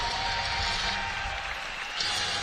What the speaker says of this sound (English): Big round of applause, Samantha Graves.